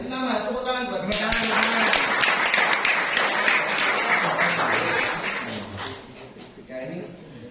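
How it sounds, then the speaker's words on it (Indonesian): An audience applauds a young participant named Bintang at a motivational talk: a sustained burst of clapping lasting several seconds that gradually thins out, mixed with voices. "Tepuk tangan buat Bintang."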